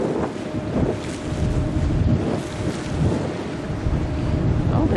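Strong wind buffets a boat on a fjord trip near a glacier, a steady loud roar of gusts across the microphone with low rumbling water and engine noise underneath, continuous throughout with no talking.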